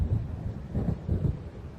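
Thunder from a storm approaching over a lake in the video game Alan Wake: deep, rolling low rumbles that swell and fade in quick pulses, fairly loud, with no other sounds.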